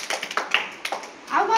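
A string of sharp hand claps in quick, slightly uneven succession during a children's movement activity, each crisp and close, followed by a voice at the end.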